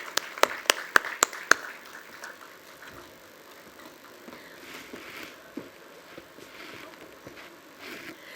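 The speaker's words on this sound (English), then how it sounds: "One more round of applause, please." Applause greets speakers coming on stage at a literary festival panel on book-to-screen adaptations, opening with a few loud, sharp claps, then settling into a fainter, scattered patter of clapping from the audience.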